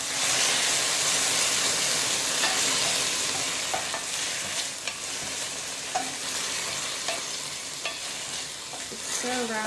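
Steak taco filling sizzles steadily in a hot pan with tomatoes, with scraping stirs and light clinks of a utensil against the pan throughout; close and continuous, with no talking.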